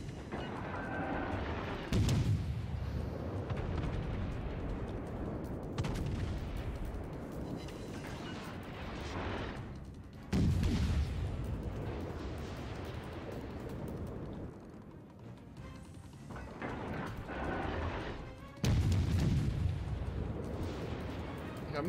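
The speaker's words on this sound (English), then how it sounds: "Try and get a final few more salvos off." Naval gun salvos fire in the World of Warships game: three heavy booming blasts spaced several seconds apart, each followed by rumbling decay amid ongoing battle noise.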